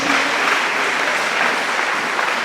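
Steady, dense applause from a church congregation, continuous clapping at an even level throughout.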